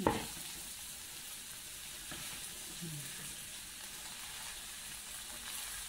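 Leftover rice stir-fried with carrots and green onion gives a quiet, steady sizzle with a few soft stirring scrapes, close and continuous.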